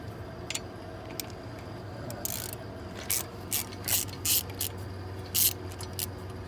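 A ratchet clicks in short bursts while loosening a size 10 bolt on a Subaru Forester during A/C compressor removal, the quick ratcheting strokes fairly close against a quiet background.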